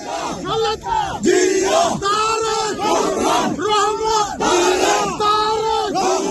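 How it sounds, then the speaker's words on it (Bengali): A crowd of UK BNP activists chants a political slogan for their leader in loud, rhythmic unison, the call repeating roughly every second, close and insistent. "পথে যুক্তরাজ্য বিএনপির নেতাকর্মীরা তাদের নেত্রীর নামে স্লোগান দিয়েছেন"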